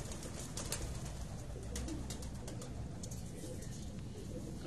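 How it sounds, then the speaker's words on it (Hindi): A Cheena pigeon coos faintly amid a busy rooftop background of rustling and scattered clicks, quiet and continuous, with no clear talk over it. "ये देखें जी चीना कबूतर"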